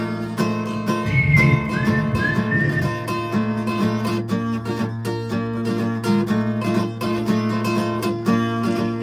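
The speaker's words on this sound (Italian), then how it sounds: "Oh, fischiato, fischiato!" Someone whistles a few short rising notes over steady background music, fairly close and clear before fading into the music.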